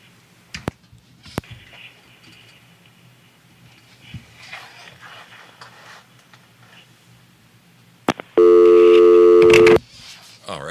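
A telephone line clicks and taps faintly over low background noise, then a loud, steady tone blares for about a second before cutting off.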